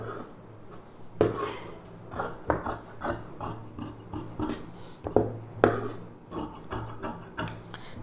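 Scissors rasping and snipping through blouse lining fabric as it is cut straight, a series of close dry scraping strokes at an uneven pace.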